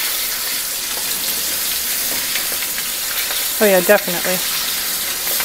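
Food sizzling and frying steadily in a pan, a loud continuous crackle close up, with a brief spoken remark partway through.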